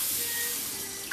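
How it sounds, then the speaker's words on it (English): Water runs steadily from a kitchen tap while dishes are washed, a broad continuous hiss filling the whole moment with no speech. "Go ahead and wash these dishes out."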